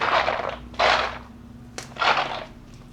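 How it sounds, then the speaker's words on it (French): Three soft, hollow sloshes of water shifting beneath wooden parquet floorboards, spaced about a second apart, with a single sharp creak between them. "Là, c'est le bruit de l'eau qui est sous le parquet."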